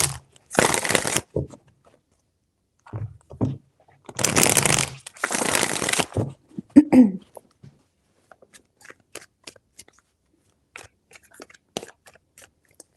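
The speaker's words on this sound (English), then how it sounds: "Three shuffles." Tarot cards are shuffled in several distinct bursts of riffling, crisp and close, with pauses between them and lighter card taps and handling sounds afterward.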